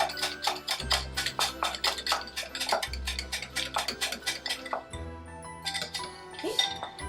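Pampushky doughnut dough is beaten in a bowl, giving a quick, regular series of close tapping and clinking strokes that keep a steady rhythm with brief pauses.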